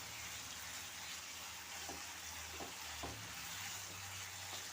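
Ground paste of fried onion sizzles steadily in a hot pan for garlic chicken, a continuous close frying hiss with a few faint stirring scrapes and no talk.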